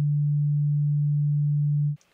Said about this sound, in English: I have this sine wave, a single frequency,